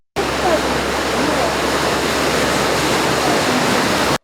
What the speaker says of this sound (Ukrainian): Вода стоїть у дворах та тече дорогами.